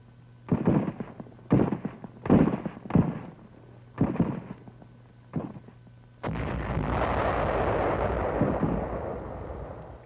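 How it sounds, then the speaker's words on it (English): WWII combat on a Philippine island beachhead during the drive on Cebu City, with mortar and small arms fire: a string of sharp separate blasts and bangs, then a steady loud rumbling roar of heavy fire, with no talk. "our troops are brought under small arms and mortar fire"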